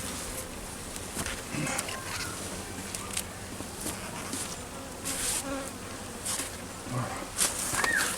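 Honey bees swarm around a beehive as it is set back in place, making a dense, continuous buzz close by with a few louder passes as individual bees fly near.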